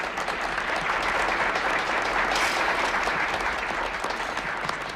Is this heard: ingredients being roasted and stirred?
no